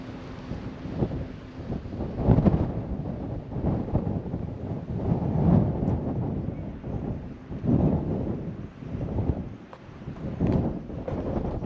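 Steady wind buffeting the microphone at a campsite in the Kennedy Ranges, Australia, with low rumbling gusts rising and falling throughout and no voices.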